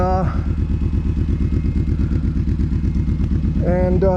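A hot motorcycle idling on a warm day after hard climbing, a steady close pulsing engine throb with a cooling fan whirring, brief revs at the start and end.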